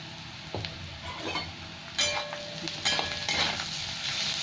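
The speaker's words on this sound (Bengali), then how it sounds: "এখানে আমার পেঁয়াজটা একটু ভাজা হয়ে গেছে" Onions frying in oil in a pan for a Bengali bitter gourd fry, a soft steady sizzle with occasional stirring clinks and scrapes, close and moderately quiet.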